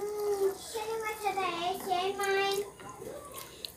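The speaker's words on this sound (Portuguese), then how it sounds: "E vou colocar um pouquinho de água." Water is poured into a pot of chicken soup in a home kitchen, making a steady running and splashing sound while a voice talks over it.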